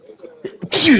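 A single sharp sneeze at close range bursts out after a moment of quiet murmuring, loud and abrupt, during live coverage of a Spartan Ultra 24-hour race.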